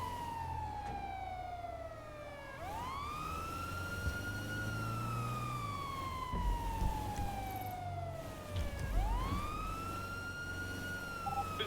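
An ambulance siren in a GTA roleplay video game, a loud wailing tone sweeping down and back up in two long cycles, over a low engine rumble and faint background game noise.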